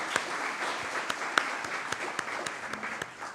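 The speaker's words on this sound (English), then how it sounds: "Let's give her a round of applause." Graduation-ceremony audience applauding an honors college graduate, a steady wash of many hands clapping at moderate distance with scattered sharper individual claps standing out.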